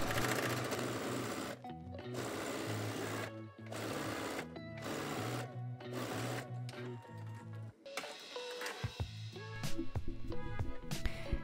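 A sewing machine runs a straight sleeve seam on a gathered top or dress in repeated close, rhythmic bursts of stitching with brief stops between them.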